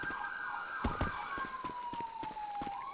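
Police sirens wail in GTA 5 roleplay. A single steady siren tone slowly sweeps downward, fairly close, while sharp knocks and thuds sound over it.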